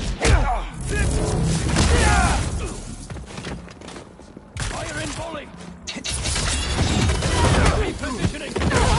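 Video game Marvel's Spider-Man 2 with a volley of gunfire, rapid overlapping bursts mixed with thuds, crashes and shattering, loud and chaotic in waves with brief lulls, voices heard amid the action.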